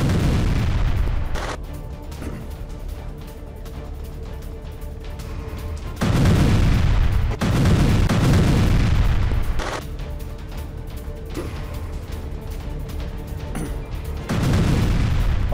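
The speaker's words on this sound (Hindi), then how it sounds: "गाजा में आईडीएफ की विध्वंसक स्ट्राइक, एक साथ कई इमारतें तबाह" Israeli air strikes hitting buildings in Gaza, with destruction spread across the area: a run of loud, heavy booms and rumbling blasts in the distance, with several sharp onsets and sustained roaring between them, with no voices.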